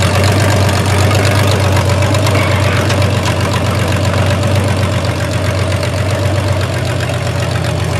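Engine running steadily at idle after starting, a dense continuous rumble with a knocking, vibrating texture, loud and close throughout with no talking.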